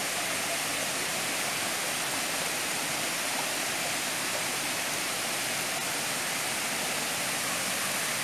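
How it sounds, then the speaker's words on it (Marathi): Clear water rushes through a dug irrigation channel near a forest river, making an even, unbroken hiss of flow that stays close and steady throughout. "हा बघा, हा पाण्याचा इथे पाट काढलेला आहे"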